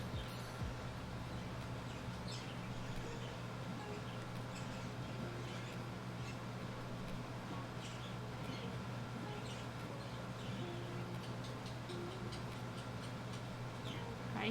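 Faint outdoor background with scattered light clicking and occasional soft bird chirps, heard distantly over a steady low hum during a quiet watercolour painting session.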